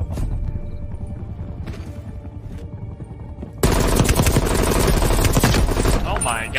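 Automatic XM4 rifle fire in the Call of Duty Cold War multiplayer game, a loud dense burst of rapid shots and explosions that erupts suddenly partway through after quieter game ambience.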